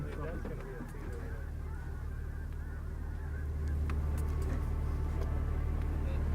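Wild geese honking as a flock takes off during a goose and duck hunt, a continuous cluster of honks over a low rumbling background, with someone speaking.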